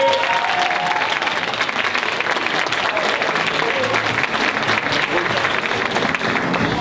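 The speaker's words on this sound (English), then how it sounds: "give our graduates another round of applause for all the hard work that they put in" Audience at a graduation ceremony giving a loud, sustained round of applause, dense clapping running evenly throughout with a few voices mixed into the crowd.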